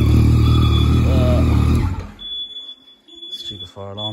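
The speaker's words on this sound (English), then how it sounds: "That's our fire alarm going off." A shrill, steady high-pitched fire alarm rings over a loud rumbling Yamaha MT-09 engine with Akrapovic exhaust, then cuts out, leaving quieter background noise and a brief voice.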